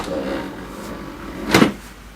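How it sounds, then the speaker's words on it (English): The ink access door of an HP Envy Photo 7275 printer shuts with a single close, solid plastic thud after a moment of quiet handling. "Close the ink access door"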